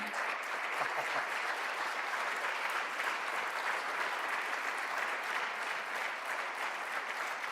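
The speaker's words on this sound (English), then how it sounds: "In predlagam a big round of applause" Steady, dense applause from an audience at a medical research awards ceremony, filling the space evenly and continuously without a break or any voices standing out.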